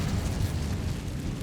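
Incendio fire spell cast in the game Hogwarts Legacy, a dense continuous roaring whoosh of flame with a rumbling low end, loud and close, lasting the whole short moment without any talk.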